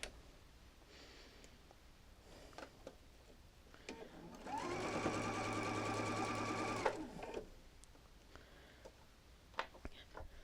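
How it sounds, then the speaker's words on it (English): A home sewing machine stitches off a small edge of a double wedding ring quilt to the corner, running in one steady whirring burst of a few seconds between quieter handling noises. "So now I'm going to sew off that little edge right here, right to that corner."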